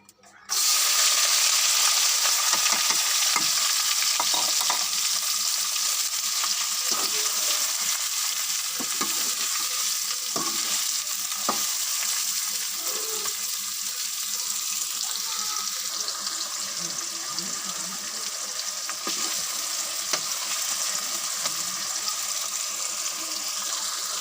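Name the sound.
garlic and onion frying in hot oil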